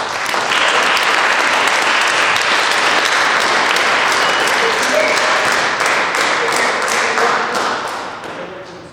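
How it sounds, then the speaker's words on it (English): Audience applause at a high school military signing ceremony, loud and close, with a sharp burst of clapping that swells into a steady, dense roar of hands with a few distinct nearby claps, holding strong for several seconds before tapering slightly. "So let's give a round of applause."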